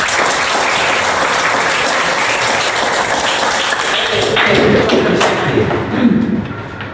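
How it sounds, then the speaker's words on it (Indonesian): A classroom of students claps together in a dense, loud burst that holds steady for several seconds, then thins and tapers off near the end. "Oke, kasih tepuk tangan."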